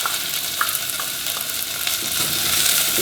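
Garlic hits hot oil with softened onion in a pan for a spiced celeriac soup, making a loud, close, continuous sizzle with light stirring and crackles, and no one talking.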